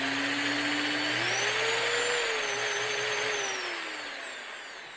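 A Frankford Arsenal Universal Trimmer runs steadily, trimming 5.7x28 pistol brass, a close, continuous electric motor whine whose pitch rises and wavers as it cuts before easing off near the end.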